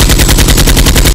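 Rapid automatic gunfire from the Roblox game Brookhaven, a loud burst of about a dozen evenly spaced shots that cuts off abruptly.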